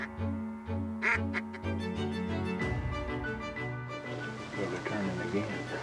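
Ducks quack repeatedly at a Texas duck hunt, loud and close, in irregular bursts, with people talking over them throughout.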